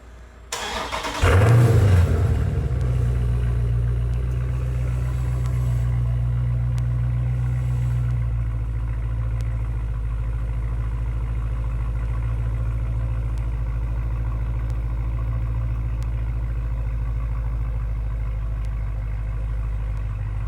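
A 2018 Dodge Daytona 392 V8 with aftermarket exhaust fires up after sitting about fifteen minutes, a loud cranking catch and flare, then settles into a deep, steady burbling idle close by for the rest of the clip.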